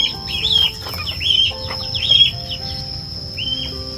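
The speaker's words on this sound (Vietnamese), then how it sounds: "xa xa phía bên tường kia là mấy con gà nó đang ăn, nó đang tìm mấy con côn trùng" Chickens forage for insects and greens beside a wall in a large garden, heard as soft clucks mixed with repeated rising chirpy bird calls over a steady background hum, moderately close, with no talking.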